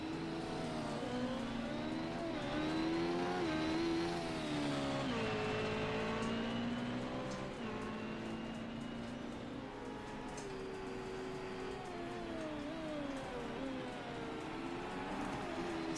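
Formula X race cars lapping Silverstone in a racing video game, engines droning and shifting pitch continuously as they rev through corners, loud and steady for the whole stretch.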